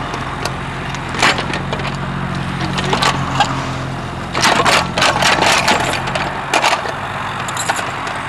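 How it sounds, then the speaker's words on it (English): Hard lumps of soil being scraped across a lawn into low spots, giving rough, gritty scrapes and knocks in irregular bursts, close and fairly loud against steady background noise. "I'm scraping all these big hard lumps into the very low spots where they'll be compacted down."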